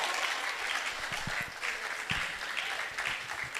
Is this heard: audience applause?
yes